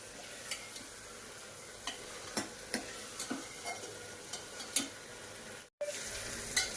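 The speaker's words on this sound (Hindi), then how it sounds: "तो ये मटर और प्याज अच्छे से फ्राई हो गई हैं" Peas and onions fry in a pan on a home stove, a steady soft sizzle broken by scattered light clicks and taps of a spoon stirring, with a brief dropout near the end.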